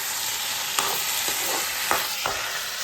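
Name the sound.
chicken with potatoes and tomatoes cooking in pan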